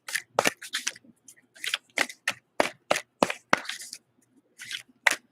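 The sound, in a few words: shuffling tarot oracle cards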